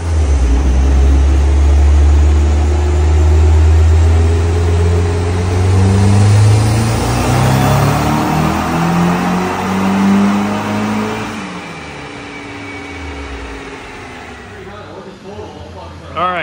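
A tuned Nissan 180SX accelerates hard through boost pulls, its loud engine note climbing through the gears from inside the car, then easing off toward the end while a voice speaks over it.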